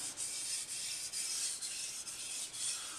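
A kitchen knife is rubbed on a rough grit sharpening stone in steady back-and-forth strokes, a close, regular rasping about twice per second, with no talk.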